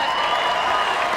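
Crowd at a regional fitness competition clapping and cheering in a steady, dense wash of applause that fills the whole short moment, with no speech over it.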